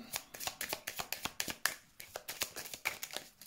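Tarot cards being shuffled by hand for a reading, a quick run of crisp riffling flutters and taps in close, quiet succession.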